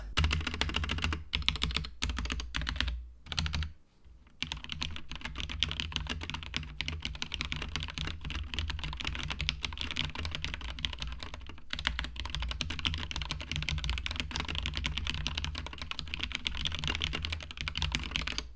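Steady, fast typing on a compact retro-style computer keyboard resting on a rug-like mat, dense clicky keystrokes close up with a brief pause early on, no voices.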